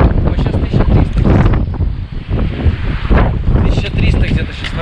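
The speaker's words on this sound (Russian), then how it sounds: "Немножко холодно, ветер холодный." Cold wind rushes across a high Norwegian mountain, Sandfloegga, at about 1300 metres, buffeting the microphone with loud, gusting rumbles that swell and dip throughout.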